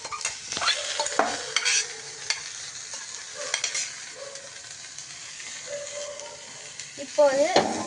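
Foxtail millet stirred in hot ghee in a pan, with a soft sizzle and scraping spoon strokes repeating irregularly throughout at a moderate, close level.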